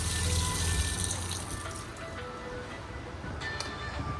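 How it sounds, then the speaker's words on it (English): Steady stream of water running from a faucet in a new 2024 Forest River Wildwood FSX 266BHLE travel trailer, fed by the onboard water pump from the fresh tank; a continuous close hiss and splash with no talk. "So water pump is working great."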